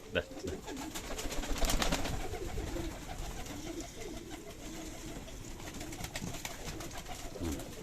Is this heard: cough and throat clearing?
no